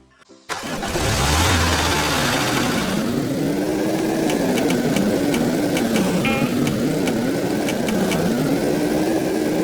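A motorcycle engine in the Roblox game Dusty Trip catches after a brief start and then runs steadily, a close, mid-pitched idle that wavers in pitch over nearly ten seconds, with a few faint clicks over it.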